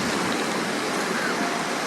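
Ocean waves and rain at Gwangalli beach, a steady, dense broadband rush with no distinct breaks, loud and continuous throughout.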